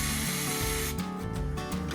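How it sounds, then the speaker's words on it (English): Penetrating oil sprayed onto rusty joints of a BMW Z4 assembly, short hissing aerosol bursts over a loud, steady mechanical hum in a workshop, with no one talking. "I decide to get some penetrating oil on the back side of the joints"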